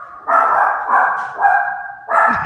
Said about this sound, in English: the sounds of a dog distantly barking inside of the hallway